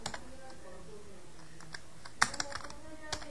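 Rapid clicking keystrokes on a computer keyboard as HTML and JavaScript code is entered, close and steady with a brief burst of louder taps, and a voice speaks faintly underneath.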